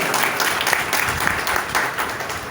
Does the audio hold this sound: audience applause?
yes